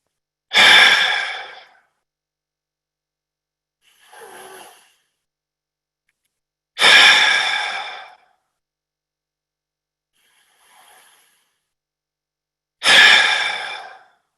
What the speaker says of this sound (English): even more forceful exhale. Inhale. Exhale.